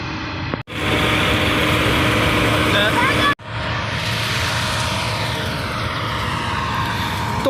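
A Massey 240 tractor engine runs loud and close during a rice harvest, a constant heavy drone broken by two abrupt brief cutouts.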